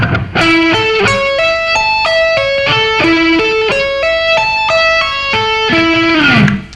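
Distorted electric guitar plays a fast, cycling arpeggio of crisp separate notes in a repeating pattern, finishing with a downward pitch slide.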